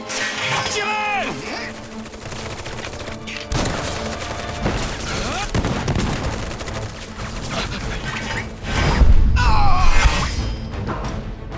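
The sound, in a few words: gunfire in Final Fantasy VII Remake video game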